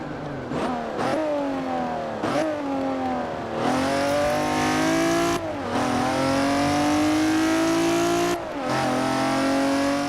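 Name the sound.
sports car engine with turbo inlet noise, video game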